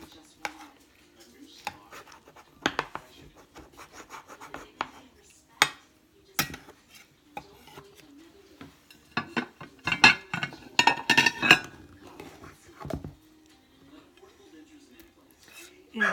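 Knife and spatula cutting and lifting a portion of baked ravioli lasagna from a dish, with scattered clinks and scrapes of metal on the pan, under intermittent talking.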